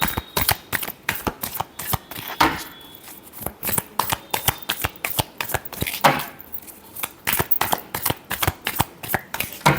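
Tarot cards are shuffled by hand close up, a rapid run of crisp riffling flicks and slaps in quick bursts, loud and alone for nearly ten seconds.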